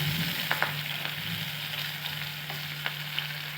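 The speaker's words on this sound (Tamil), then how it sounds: "கடுகு வெந்தயம் பொரிஞ்சிடுச்சு வெங்காயம் பச்சை மிளகாய் போட்டுக்கலாம்" Onion, green chilli and curry leaves fry in hot oil over popped mustard and fenugreek seeds for an okra tamarind gravy, giving a steady close sizzling hiss with a few sharp pops and crackles.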